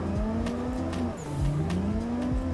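A car in Assetto Corsa, the racing sim, drifts with a high-revving engine whine that sweeps up and down, while tires squeal and skid through the slide.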